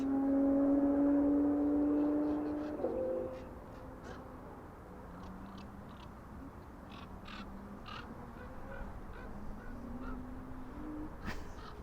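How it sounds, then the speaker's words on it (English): A crow caws repeatedly in short harsh bursts somewhere in the distance near East Midlands Airport, heard over a steady outdoor background hum; no one speaks. "It's an old crow."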